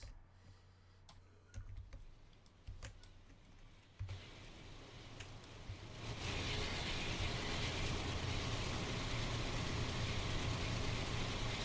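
A New York City subway train in Train Sim Classic departing Woodside, with a few sharp ticks and clicks before a steady rumbling swells up and holds as the train pulls away.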